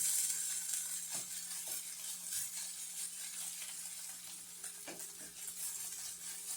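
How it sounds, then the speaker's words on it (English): Potatoes being stirred in a frying pan as part of a salmon and spinach potato meal, with a steady close sizzle and occasional soft scrapes of the utensil against the pan, no talking. "You just have to kind of stir this and keep it, and you can get them potatoes done."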